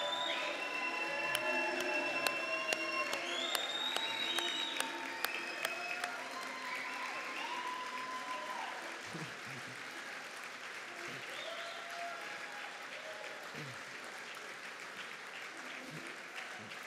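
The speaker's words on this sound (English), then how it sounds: "let's give a round of applause" An audience at an event at Mar-a-Lago claps in a sustained, loud round of applause that slowly fades. Voices talk over the clapping and tonal background sounds run through the first half.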